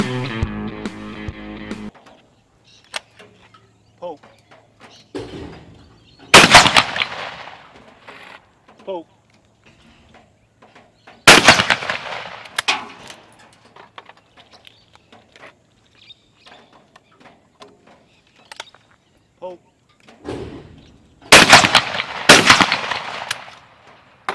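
Gunshots fired at an Australian gun club shooting range, three sharp loud reports spaced several seconds apart, each followed by brief echo, with talk and quieter handling noises in between.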